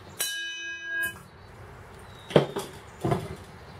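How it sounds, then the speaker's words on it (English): Larger bell meant for a car's bell ringer, struck once with a clear ringing tone that decays after about a second, followed by two duller knocks of handling. "Behold, a bigger bell."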